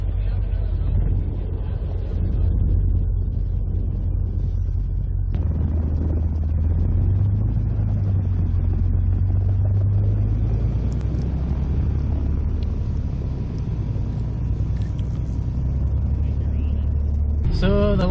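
Off-road vehicle grinding through deep snow drifts, a steady low engine rumble with strained revving and shifting tone throughout, loud and close, with faint voices underneath near the end.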